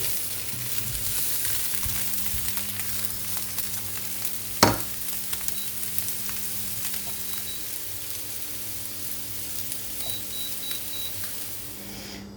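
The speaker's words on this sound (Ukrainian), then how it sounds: "Зараз до кінця підсмажиться яйця." Eggs and cauliflower frying in a pan, a steady soft sizzle with a sharp clink near the middle and faint beeps later, no talking.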